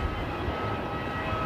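A Velocity airliner lined up on runway 34 at Melbourne Airport, its engines giving a steady, broad low roar throughout with no distinct change, no speech.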